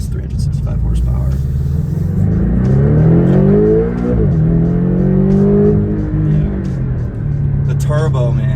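Turbocharged engine of a 2019 Porsche Boxster GTS accelerating, heard from inside the cabin as a loud, steady rumble that rises and falls in pitch through several gear changes over about eight seconds.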